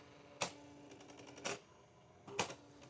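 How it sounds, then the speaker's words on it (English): Three separate bursts of mechanical clattering from an EP44 electronic typewriter printing in teletype style, with quieter ticking in between, close by. "But again, you have that classic clickety-clackety sound."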